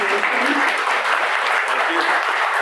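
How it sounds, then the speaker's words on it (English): An audience at a Gamescom panel applauds the panelists, a steady, loud wash of clapping that runs evenly from start to finish. "thank you to our awesome panel. Let's give them a little round of applause."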